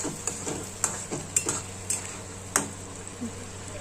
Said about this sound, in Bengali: দিয়ে এটাকে ভালো করে নাড়াচাড়া করে নিচ্ছি জলের সাথে।